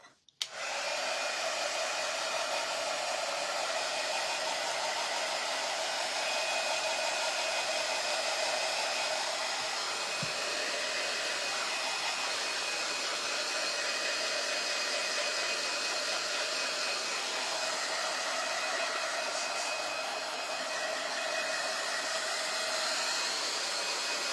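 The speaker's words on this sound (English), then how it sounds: "let me just hit it just one more minute on the dryer" A hair dryer blows steadily at close range for the whole stretch, a constant loud whooshing roar with a faint high whine and no talking.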